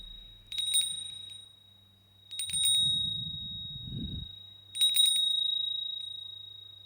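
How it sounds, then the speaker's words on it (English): A bell rung three times by hand, each bright metallic ring followed by a low hum, with a rustling handling noise between the second and third rings. "Can we ring that bell, Sal?"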